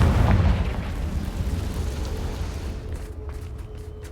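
A Confringo blasting spell goes off in Hogwarts Legacy, a loud, deep boom at the start that rumbles and slowly decays over several seconds, with a faint steady tone underneath.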